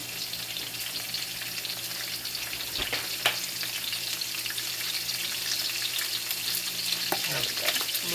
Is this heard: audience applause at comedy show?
no